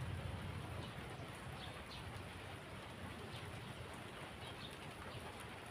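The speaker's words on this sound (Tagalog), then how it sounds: "Andiyan na ang ulan ulit." Steady afternoon rain in Taiwan falls continuously with an even hiss, close and moderately loud, with no talk over it.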